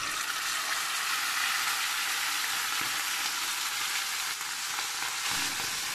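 Spicy chicken drumsticks fry in hot oil, giving a steady, dense sizzle and crackle that holds at an even level throughout, close up and with no voices.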